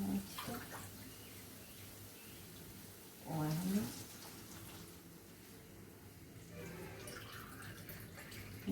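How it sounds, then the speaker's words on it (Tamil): Water poured into hot oil in a pan while cooking rava upma gives a short, loud splashing sizzle burst midway, standing out from a steady low background hiss. "இப்போ தண்ணி எண்ணெயில் படும்போது கொஞ்சம் தெவிக்கும்"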